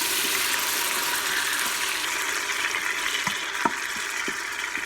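Onions and celery sautéing in butter and olive oil inside an Instant Pot, a steady close hiss with a few soft clicks and taps near the end, no voices.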